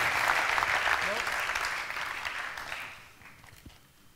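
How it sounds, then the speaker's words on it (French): Audience applause at an awards ceremony, strong clapping from a crowd that gradually thins and fades to scattered claps over a few seconds. "On peut bien évidemment vous applaudir."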